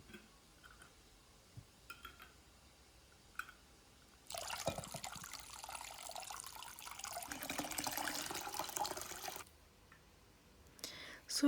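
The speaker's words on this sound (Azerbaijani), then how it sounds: "Gördüyünüz kimi suyunu süzürəm, soyuyub." Water drains from cucumber pickles being strained, a steady splashing pour that runs for about five seconds in the middle, with faint handling sounds and quiet talk before and after.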